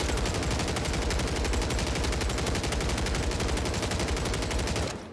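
Rapid automatic gunfire from an accurate, low-recoil rifle in a Warzone Season 3 Reloaded firing range, an unbroken burst of sharp shots for about five seconds that cuts off at the end.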